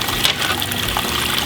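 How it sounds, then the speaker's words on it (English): Water churns and trickles through a hydroponic reservoir system as a recirculating pump moves it from one end back up, a steady, close, loud gushing wash with no speech. "We've got your recirculating pump that's pulling water from the other end, back up here."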